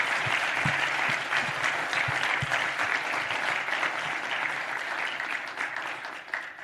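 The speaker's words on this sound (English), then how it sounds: "Can we just get a big round of applause for them?" A symposium audience applauds a group after a talk, with steady, dense clapping from a sizable crowd that holds through most of the stretch and eases slightly toward the end.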